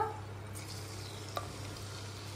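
Chicken coated with mint frying in a little oil in a pan: a steady, soft sizzle with a low constant hum beneath and a single light clink partway through.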